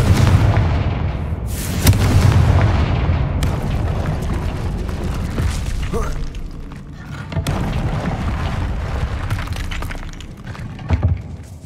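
Explosive spell blasts in the Hogwarts Legacy video game, heavy booms with shattering, glassy debris, several bursts spread over a loud, rumbling stretch of combat.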